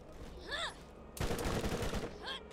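A rapid-fire bullet hose weapon in Borderlands unloads a dense, sustained burst of gunfire for about a second, loud and close. Brief electronic chirps sound before and after the burst.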